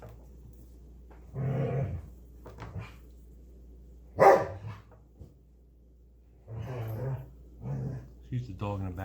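A dog barks in short bursts in the background, a few separate outbursts spread across the clip, while someone talks over them at close range; one sharp, louder bark stands out midway.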